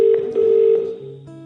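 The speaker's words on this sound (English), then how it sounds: "This is the sound of Megan calling a hotel in Glasgow" Telephone keypad tones beep in a short irregular run as a call is dialed to a hotel in Glasgow, followed by a steady ringing tone, all close and clear with no talking.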